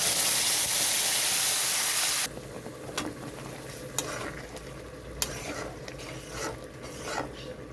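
Whole dried red chillies, whole garam masala and bay leaves hitting hot oil for tempering, opening with a loud hissing burst that drops to a quieter crackle with stirring scrapes and clicks.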